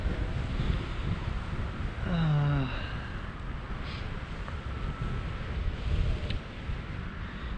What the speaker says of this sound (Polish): No i wiatr mamy dosyć mocny.